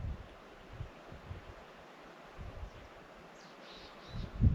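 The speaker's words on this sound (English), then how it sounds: "you hear the wind blowing through these trees" Wind gusts through trees in open country, a soft continuous rustle that swells in low gusts near the start and grows louder toward the end, with faint chirps high above.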